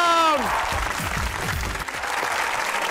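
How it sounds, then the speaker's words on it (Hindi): Studio audience on a comedy talk show applauding to welcome guest Aijaz Aslam, a dense wash of clapping that starts right after a voice and continues evenly to the end. "तो आज तालियों में लगाएंगे पूरा दम, क्योंकि हमारे साथ मौजूद हैं द ग्रेट एजाज असलम"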